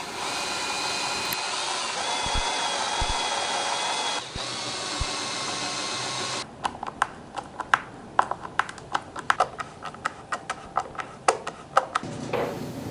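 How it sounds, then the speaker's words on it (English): A power drill whines steadily for several seconds while building a music studio desk, then gives way to a series of clicks and knocks as holes are drilled and handled. "drill the holes to attach"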